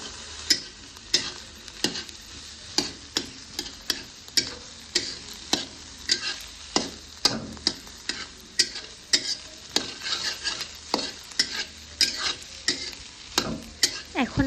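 Boiled cauliflower, carrot and pumpkin are stir-fried in a pan for fried rice: a spatula scrapes and knocks in a steady rhythm over a soft sizzle, close-up, with no voices.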